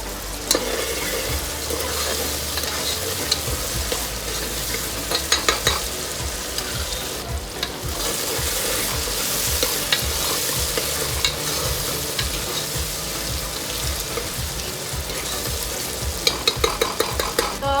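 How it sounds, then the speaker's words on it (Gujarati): Tomatoes roasting with salt in a pan give a constant close sizzle, broken by frequent clinks and scrapes of stirring, with no voices over it. "તો હવે ટામેટા શેકાઈ જાય એના માટે આપણે થોડુંક મીઠું નાખી દઈએ"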